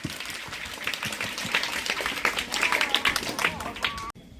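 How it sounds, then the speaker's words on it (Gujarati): An audience claps at a school mother-language festival event in Gujarat. Dense, lively applause is mixed with scattered voices and builds over about four seconds, then cuts off abruptly. "પોતાના માટે એકવાર જોરદાર તાળીઓ પાડો."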